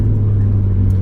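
Supercharged Mazda MX-5 engine pulling on throttle, a loud, close, deep rumbling drone that holds steady for the whole moment.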